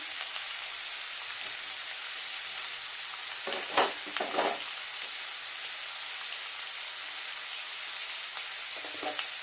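Radish greens with poppy seed paste cooking in a pan, a soft steady sizzle throughout with a couple of brief stirring scrapes, quiet and without talk.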